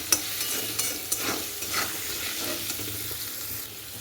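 Potatoes fry in a pan with salt, turmeric and chili powder, giving a steady close sizzle broken by a few sharp stirring scrapes and clacks, with no talking.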